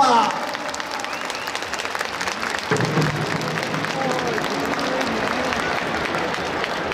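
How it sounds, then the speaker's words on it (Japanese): A crowd at an outdoor Eisa festival applauds after the Okinawan drum dance, a steady spread of clapping beneath an announcer's voice and other voices talking over it. "大きな拍手をお送りください"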